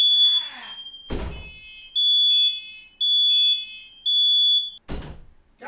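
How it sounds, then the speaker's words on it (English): A smoke detector fire alarm goes off indoors with loud, piercing beeps in three repeated long pulses, interrupted by a couple of sharp thumps and a startled shout. "Goddamn fire alarm!"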